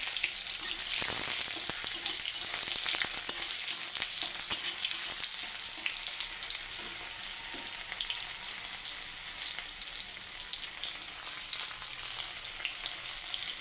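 Chopped onion and a dried red chili fry in hot oil for an egg and paneer dish, a loud, steady, close sizzle with bright hiss that keeps going, and occasional stirring scrapes underneath, with no talking.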